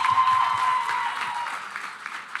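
Studio audience applause for a musician and digital-intelligence speaker on a talk show, a soft, diffuse wash of clapping that slowly fades, with faint background voices and tones underneath.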